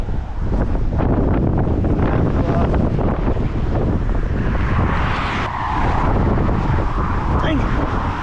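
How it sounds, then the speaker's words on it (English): Strong gusty wind buffets the microphone outdoors in roughly 40-degree weather, a loud continuous rumbling roar with brief surges and no let-up throughout. "It is so windy."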